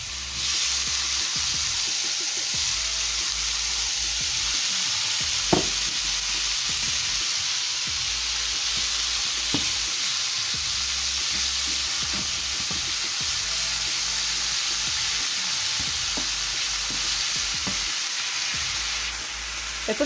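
Nopales, cactus paddles precooked with salt, garlic and onion, fry in a pan with a steady, close sizzle for the whole stretch, broken by a few sharp stirring clicks and scrapes.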